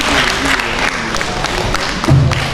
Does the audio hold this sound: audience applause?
yes